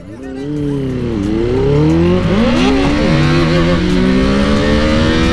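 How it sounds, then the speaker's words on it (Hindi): A KTM RC 390 and a Benelli 600i motorcycle accelerate hard side by side in a drag race, engines roaring loud and close with rising, shifting pitch sweeps throughout. "RC 390 versus Benelli. इनकी होने वाली है भाई ड्रैग रेस।"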